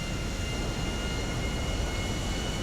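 An airplane engine in a flight simulator game drones as a steady, even roar with a faint high whine on top, continuous and unchanging, with no voices.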